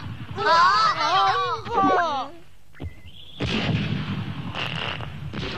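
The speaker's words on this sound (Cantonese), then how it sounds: "做咩而家放煙花㗎啫？" Fireworks explode in the Momotaro Densetsu video game: a run of loud, rumbling booms and crackles fills the second half, after an excited animated voice speaks near the start.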